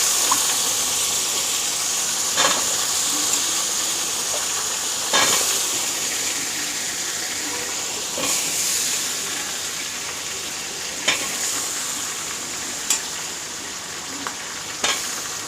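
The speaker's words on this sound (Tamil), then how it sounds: "இது கொஞ்சம் வதங்கின உடனே நீங்கள் நறுக்கி வச்சுருக்க அந்த கத்திரிக்காய், முருங்கைக்காய், மாங்காய், உருளைக்கிழங்கை போட்டு லைட்டாக வதக்கிக்கோங்க" Cut brinjal, drumstick, raw mango and potato are stirred in a hot pan, a continuous loud sizzle broken by regular scraping and clinking stir strokes every couple of seconds.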